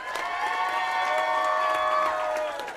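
An audience at an FFA foundation awards presentation in Miles City cheers, a sustained blended crowd noise with tonal whoops and voices over light clapping, steady and fairly loud.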